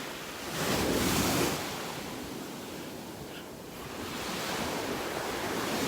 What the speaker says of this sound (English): Kind of hoping for the waves to die down here.